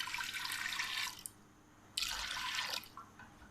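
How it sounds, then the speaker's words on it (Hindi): Water poured into a pressure cooker holding lentils, three cups added in turn: two loud splashing pours, each about a second long, separated by a short quiet pause, heard close up with no talk. "और उसमें डाल देंगे 3 कप पानी।"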